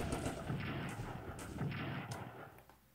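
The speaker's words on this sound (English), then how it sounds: "And there's enemy artillery." Enemy artillery fire in the World War I strategy game Strategic Command, a rumbling series of muffled booms and blasts overlapping one another, dense and steady for a few seconds with no voices.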